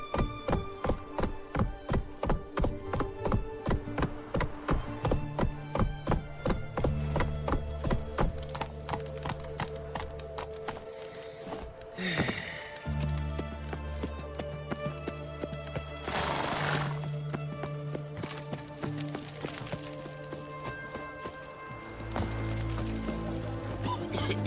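Geralt's horse Roach gallops in The Witcher 3, a fast rhythmic clip-clop of hooves with a snorting whinny partway through, close and steady, with music and a brief spoken line over it.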